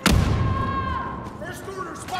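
A grenade explodes in Star Wars Battlefront II with a loud, close blast at the start that quickly dies into a ringing tail, while game voices call out over the decay.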